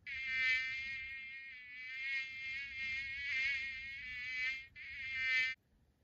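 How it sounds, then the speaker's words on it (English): A mosquito's thin, high whine drones steadily and close for about five seconds, swelling and fading slightly, with one brief break near the end, alone with no other sounds. "A mosquito goes."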